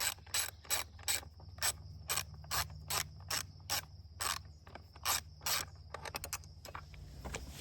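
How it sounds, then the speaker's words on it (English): A 10mm ratchet backs out the battery brace bolt on a Honda CRF250F dirt bike: close, crisp bursts of ratcheting in repeated strokes, breaking into quicker, lighter clicking near the end, with no voices. "Now we need a 10mm ratchet to take this brace off that holds the battery in"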